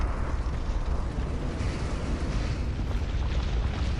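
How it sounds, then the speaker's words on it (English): Explosions and fires in the video game Dark Souls make a continuous deep, rumbling roar with crackling bursts, heavy and sustained without a break. "There was a lot of explosion and fires,"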